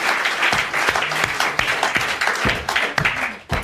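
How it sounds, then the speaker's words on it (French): Applause on a 1992 French television game show, a dense burst of clapping with a few sharper slaps like hands hitting a table, loud and steady throughout. "C'est Zitrone qui applaudit comme ça."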